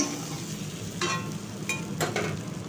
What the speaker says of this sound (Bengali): দিয়ে পটলগুলোকে আমি একটু হালকা ভেজে নেব